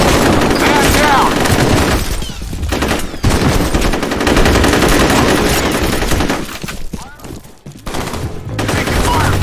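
Heavy automatic gunfire rattles almost nonstop during combat in the video game F.E.A.R., loud and dense with brief lulls, while voices call out over the shooting.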